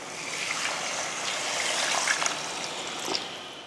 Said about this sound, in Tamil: இந்த டைமில் தண்ணி சேர்த்துடலாம்.